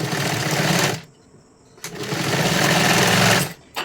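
A sewing machine stitches a size 44 katori blouse, running in loud, rapid mechanical bursts with a short pause between runs, close up.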